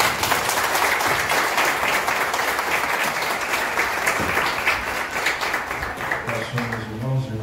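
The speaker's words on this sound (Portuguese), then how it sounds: "Pode aplaudir o Senhor." A church congregation at a Sunday graduation service applauds in a full, sustained roar of clapping, with music and voices coming in near the end.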